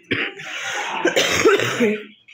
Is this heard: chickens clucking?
no